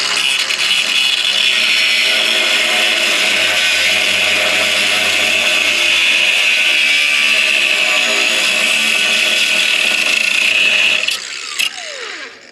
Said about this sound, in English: This is just a little 12-volt grinder.